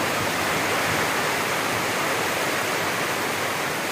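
Heavy typhoon rain pours down in a steady, dense broadband hiss that stays constant and loud throughout, with no voices over it.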